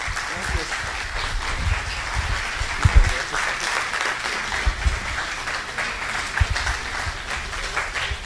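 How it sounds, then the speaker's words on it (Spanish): An audience applauds a speaker at the close of a chemical industry conference at ITESI in Mexico, a dense, steady wash of clapping with a few louder claps standing out over the eight seconds. "Un aplauso para el doctor."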